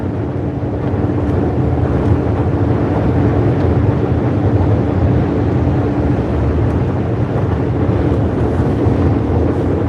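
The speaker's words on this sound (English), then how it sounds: "Very windy." Strong wind roars and buffets the microphone continuously, a loud steady rush with deep low rumbling and no voices.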